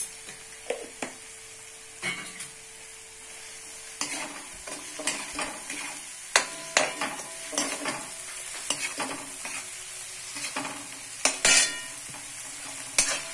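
Green chili paste frying and stirred in a pan for a Kathiyavadi Rajavadi sabji, a steady sizzle broken by repeated scraping strokes of a spoon, close and moderately loud, no voices.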